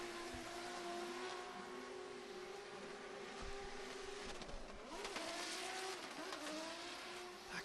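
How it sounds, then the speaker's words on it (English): Drift cars competing at the Oman International Drift Championship, a sustained high-revving engine roar with shifting pitch and rasping tire squeal, loud and close, with no talk. "That car is so fast."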